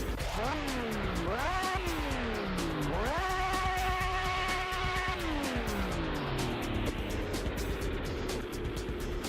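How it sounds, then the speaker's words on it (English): A high-pitched Honda V12 engine in a 1968 F1 car in the video game Assetto Corsa revs up and down in rising and falling sweeps, holds a steady scream, then drops away, loud and continuous. "This is a V12 from Honda."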